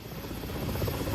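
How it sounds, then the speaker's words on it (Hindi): A Mi-17 military helicopter running during an engine check before an attack mission, a loud steady rotor and turbine roar with a continuous pulsing throb, heard alone. "बाकी हेलीकॉप्टर्स के इंजन को जांचा जा रहा है, हमले से पहले कोई तकनीकी दिक्कत ना आए।"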